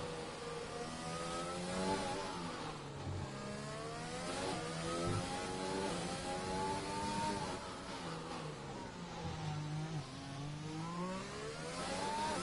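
A McLaren Formula 1 car in a racing video game on the Singapore street circuit, its high-pitched engine revving up and dropping through gear changes in continuous sweeping waves, loud and close with no speech.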